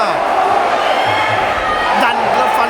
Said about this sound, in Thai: เสียงเชียร์บรรยากาศนี่รอเขาอยู่ครับ